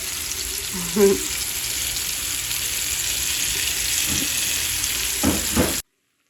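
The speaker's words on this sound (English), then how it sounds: "I'm just searing my meat." A large piece of beef sears in a hot pan for a slow cooker stew, giving a steady close sizzle throughout with a few brief clinks and scrapes of a utensil.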